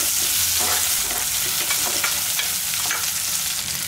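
Shallots and green chillies sautéing in a hot pan give a steady, loud, close sizzle with occasional stirring scrapes throughout.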